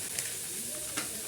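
Store-bought paneer sautéing in oil in a pan, a dense continuous sizzle with a couple of brief crackling spikes, close and steady.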